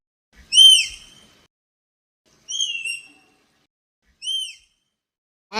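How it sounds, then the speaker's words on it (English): Sparrow giving three short, high, clear chirps spaced about two seconds apart, close and isolated against silence. "sparrow,"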